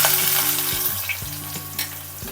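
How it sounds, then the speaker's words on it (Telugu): Sliced onions hit hot oil in a pan and fry with a loud, steady sizzle, broken by several sharp scraping clinks of a spoon stirring them. "ఒక ఫోర్ స్పూన్స్ ఆయిల్ వేసానండి ఇందులోనే నేను ముందుగా కట్ చేసి పెట్టుకున్న ఉల్లిపాయలు వేస్తున్నాను"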